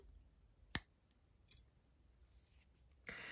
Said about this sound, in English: we are going to cut off our yarn